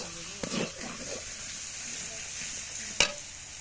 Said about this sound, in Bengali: হলুদের গুঁড়ো, এতে 2-3 মিনিট ভেজে নেব।